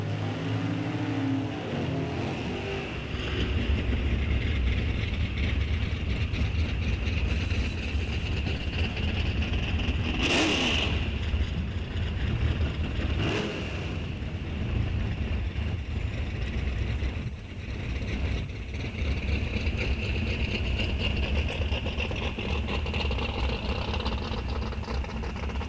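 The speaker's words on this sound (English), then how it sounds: "Again, pair of nice wheelies coming off the starting line." NHRA National Open drag racing cars launching off the starting line, a loud continuous engine roar with a couple of sharp rising bursts, heard from trackside.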